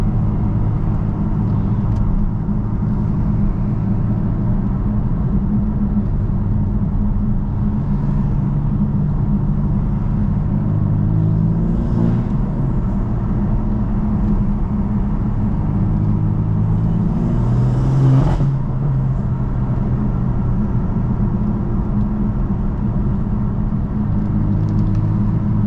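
A BMW M4 with a Stage 1 tune drives in sport mode on a rainy day, its engine giving a steady, loud cabin rumble that swells briefly as it accelerates, with no talking.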